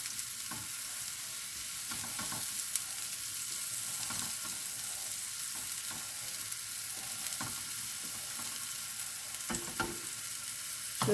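Food sizzles and fries steadily in a pan for a short cooking spell, a constant crackling hiss with occasional stirring clatters.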